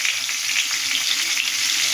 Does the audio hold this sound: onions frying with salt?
yes